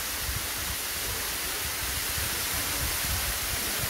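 Hongryong (Red Dragon) Falls in Yangsan, South Korea, water plunging in a steady hiss-like roar, a dense unbroken wash of noise, moderately quiet and constant with no talking.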